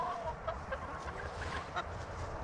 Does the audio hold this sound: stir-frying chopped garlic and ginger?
no